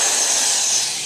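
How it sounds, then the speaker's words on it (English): An old corded Craftsman power drill runs steadily, a continuous bright whirring hiss with no breaks, close and fairly loud, and no speech over it. "This is a really old Craftsman drill"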